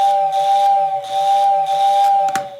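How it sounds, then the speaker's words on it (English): A Lionel whistle tender for a toy train, rewired to AC and run from a switch controller, gives a loud, steady steam-style whistle with breathy hiss and a pulsing low hum, cutting off near the end. "the whistle itself is actually quite efficient"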